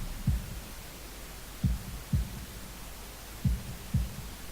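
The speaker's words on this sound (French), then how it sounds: "retenant mon souffle dans l'espoir d'entendre mes battements de cœur." Heartbeat sound effect in the visual novel Katawa Shoujo: soft low thumps in pairs, two spaced double beats and a single one, faint over a quiet hum.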